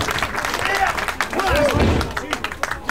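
Wrestling crowd at an underground pro-wrestling show clapping and cheering in a steady, busy wash of applause and crowd noise, with a commentator's voice talking over it.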